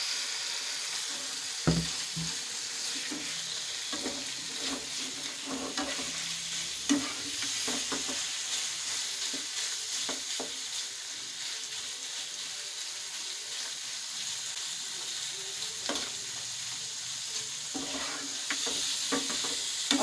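Small pieces of boneless chicken fry in a pan with a constant soft sizzle, punctuated by occasional light stirring clicks and scrapes; close and quiet, no voices.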